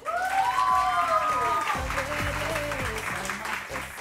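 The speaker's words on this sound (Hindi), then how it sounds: "तालियां।" A television morning-show studio audience claps steadily for several seconds, with a speaking voice and tonal show music running underneath the applause.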